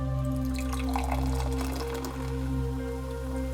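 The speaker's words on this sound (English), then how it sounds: "And then the pour." Mountain Dew Trolli-flavored soda pouring from a freshly cracked can, a steady close liquid trickle with small splashy drips lasting a few seconds over a constant low hum, no talking.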